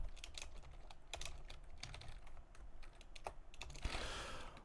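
Rapid clicking of keystrokes on a computer keyboard while configuring an Ubuntu virtual web server, a quiet, steady run of key presses with a few heavier taps and no talk.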